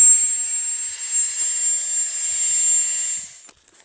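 An Etenwolf Air 3 portable air pump inflates a Thermarest sleeping pad with a loud, steady, high-pitched electric whine up close, then cuts off abruptly near the end.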